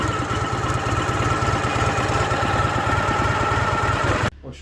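A 1993 Ural motorcycle with about 3000 km on it idles with a loud, even, rapid low thumping beat that holds steady, then cuts off abruptly near the end.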